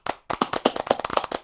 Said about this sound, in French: Les applaudissements sont extrêmement nourris